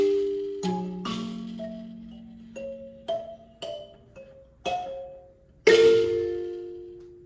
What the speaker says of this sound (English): that's the sound of the xylophone.